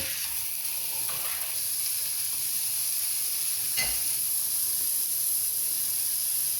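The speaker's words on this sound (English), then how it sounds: "Put a little bit of oil on the griddle, spread that about. Then we can put our burgers on." Burgers sizzle on an oiled griddle, a bright steady hiss that holds evenly throughout, with one brief clatter midway.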